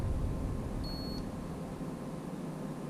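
A single faint high-pitched beep from a vehicle kill switch sounds briefly over a steady low background hum, then stops.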